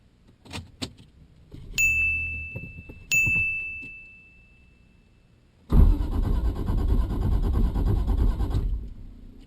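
A turbocharged Lexus IS300 is cranked over in a garage after two door-ajar chimes, the starter churning loudly and steadily for several seconds up close without the engine catching.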